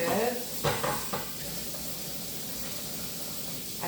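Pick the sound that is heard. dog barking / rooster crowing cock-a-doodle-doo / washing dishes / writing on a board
washing dishes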